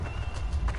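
Horse hooves clip-clop briefly in the Shadow of the Colossus video game, a short run of soft, steady footfalls over low background rumble with no talk.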